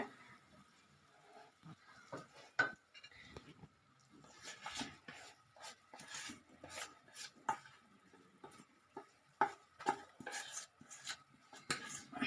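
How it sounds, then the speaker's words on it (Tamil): A roasted gram (pottukadalai) burfi mixture is stirred in a pan over a slow flame, with irregular scraping and clinking strokes of a utensil against the pan and quiet gaps between them. "இப்போ கட்டி இல்லாத நல்லா கிண்டிக்கலாம்"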